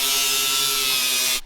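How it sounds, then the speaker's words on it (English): An angle grinder cuts aluminum sheet metal to a marked line on a 1976 AMC Pacer, a loud, continuous high-pitched whine and rasp held steadily close by before it stops abruptly at the end. "Now I'm just gonna grind to my line."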